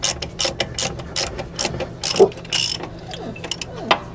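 Hand ratchet snugging wheel lug nuts on a Ford F350, rapid bursts of sharp metallic pawl clicking in short strokes, close up and dry with brief pauses between pulls.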